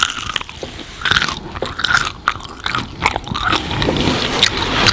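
Close, loud bites and chewing on McDonald's BTS meal food: sharp crunches and wet mastication in uneven bursts, right at the mic, with no talk over them.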